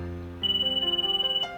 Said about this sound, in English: the phone echoed around us